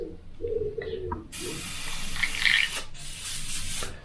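A soft, airy hiss of fine spray from an airbrush spraying paint thinned with water starts after a brief faint chirp, continuing steadily with slight fluctuations, close by and alone.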